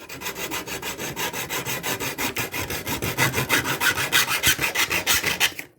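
A harsh, rhythmic rasping of a saw or grinder cutting through rusty metal on a 1980 Chevy 4x4 truck, steady repeated strokes growing slightly louder, close by with no talking.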